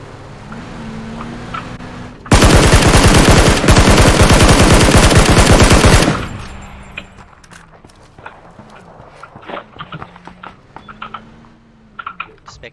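Rapid automatic gunfire from the PUBG video game rips out in a dense, loud burst lasting several seconds, between stretches of keyboard clatter and mouse clicks, with a voice talking at low level before and after.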